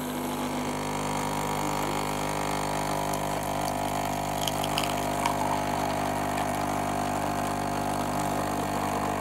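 Dolce Gusto coffee machine pumping out milk, a steady droning pump hum with a faint rattle that stays constant and close for the whole stretch, with no talking.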